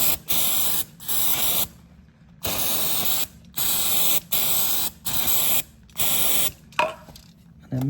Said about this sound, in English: I'm just going to spray the underside of the bike.